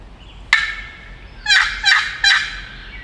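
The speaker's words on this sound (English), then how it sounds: "I think that was just a shock gobble at a crow." A wild turkey shock gobbles outdoors during spring turkey season in Pennsylvania, one short cry followed by three loud rattling gobbles in quick succession, fairly close and clear against a quiet background.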